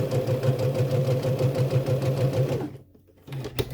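A sewing machine stitches a skort's zipper waistband, its steady mechanical whir with a regular pulsing rhythm running loud and close for about two and a half seconds before stopping, followed by faint handling noises.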